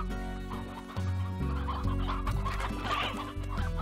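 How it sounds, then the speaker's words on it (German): Chickens cluck in the farming game Slime Rancher, a dense run of overlapping clucks laid over steady game music throughout. "Ich sammle hier mal ein paar Hühner ein."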